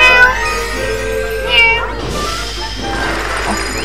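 Cat meows from the Super Mario 3D World video game repeat over busy game music and effects, with a voice speaking over the gameplay.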